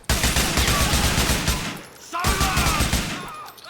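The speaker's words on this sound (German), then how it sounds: "Da fliegen die Kugeln." Sustained automatic gunfire in a firefight in Grand Theft Auto IV, dense rapid bursts close and loud, briefly dropping off before a second volley, with faint talk underneath.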